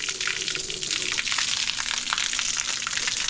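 Clean water gushes steadily through a Suzuki outboard engine block during a flush, a constant hissing rush heard close up with no talking.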